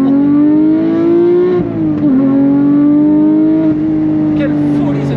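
Porsche GT3 fitted with an IPE exhaust revving hard and loud, a sustained high-pitched wail that rises, dips briefly and climbs again over several seconds, heard close with no talking.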